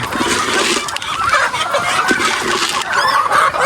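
Several backyard-raised chickens in a simple coop cluck and chatter continuously nearby, overlapping calls forming a busy, loud flock sound with no talking.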